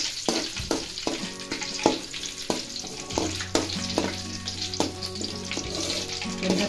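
Curry leaves fry in hot oil while making Kolhapuri bhadang, with a close, steady sizzle and spatter broken by sharp clinks and scrapes of a stirring spoon against the pan.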